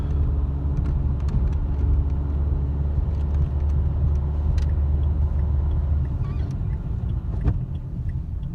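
A car rolls forward at low speed on a driving test course, a steady low engine rumble and road noise close by, with faint clicks and rattles inside the cabin and no talk.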